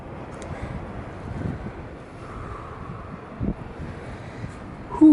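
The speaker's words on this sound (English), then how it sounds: "Happens to be a very windy day, gusts up to 50 to 60 miles an hour." Strong wind gusting across an exposed mountain lookout in the Sierra Buttes, buffeting the microphone with a fluctuating low roar and a few sharper bursts, no voices.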